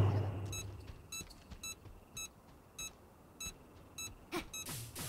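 A faint electronic alarm from the video game Supraland beeps in short evenly spaced pulses, roughly every half second, over a low background hum, growing denser near the end.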